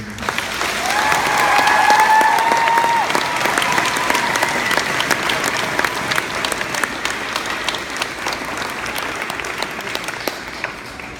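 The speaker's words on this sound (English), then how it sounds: "how about we give her a big round of applause?" Big round of applause from a school end-of-year assembly audience for a retiring teacher, loud dense clapping that swells early then gradually tapers, with a few whistles or cheers over it.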